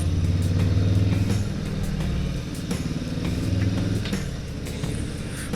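A 2021 Harley-Davidson Low Rider S motorcycle riding onto a highway, its V-twin engine droning steadily up close with a slight rise and fall in revs.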